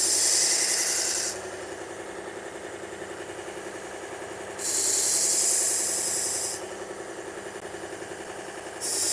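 Silver plated knife being sharpened on a 120 grit abrasive driven by a motor, with a steady close rasping grind that swells louder in two long passes over a constant mechanical hum, with no talking.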